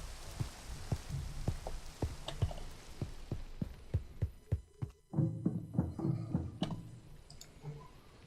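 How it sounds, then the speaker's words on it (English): Rain in a modded Minecraft world, a soft steady patter with sharp periodic clicks in a regular rhythm, then a louder rushing burst partway through, fairly quiet overall. "It's raining."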